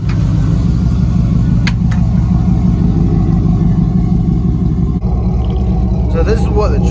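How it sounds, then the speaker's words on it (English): A Hummer H2 fitted with a custom dual X-pipe exhaust idles close up, giving a loud, deep and steady rumble throughout with a faint voice now and then. "So this is what the truck sounds like at idle."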